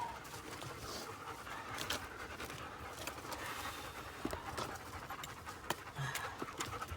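A dog pants steadily and rapidly outdoors on a gold prospecting site above an old mine, fairly faint and close, with a few soft clicks and no speech.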